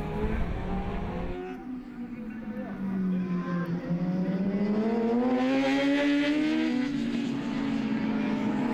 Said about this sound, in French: James Guyon sur sa Kawasaki finit 4e.